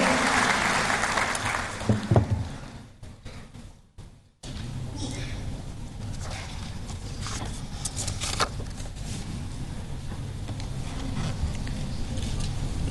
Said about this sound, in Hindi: A huge round of applause please for our chief guest for this very special morning